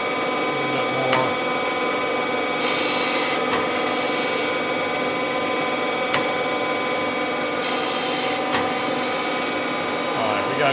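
A grinding wheel grinding a cast iron straight edge casting on a machine, a continuous abrasive rasping hum with a bright hiss that swells in two long bursts as the wheel passes back and forth over the work.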